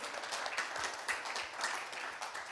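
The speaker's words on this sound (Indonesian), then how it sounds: "Akan berikan tepuk tangan kita buat Tuhan" A church congregation applauds during a worship service, many hands clapping in a steady, fairly quick patter that carries evenly throughout at moderate volume.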